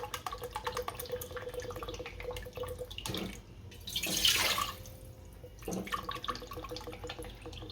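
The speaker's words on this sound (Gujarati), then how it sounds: "2 વાટકા પાણી નાખશું" Water splashes and pours into a pan in a few short bursts, close by, over faint background noise; two bowls of water poured in for making khichu.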